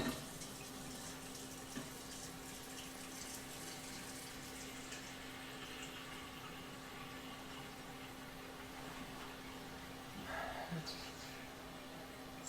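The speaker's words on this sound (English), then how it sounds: "So just filling up a small pot with some cold water." Cold tap water running steadily into a small cooking pot in a home kitchen, a faint continuous hiss and trickle with a low steady hum underneath and a brief clink near the end.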